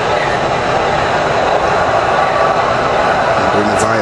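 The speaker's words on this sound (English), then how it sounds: "And I can start up my subway set." A steady, loud rushing hum of an MTH DCS-controlled model subway train starting up, with a continuous mechanical whir and brief tonal beeps near the end.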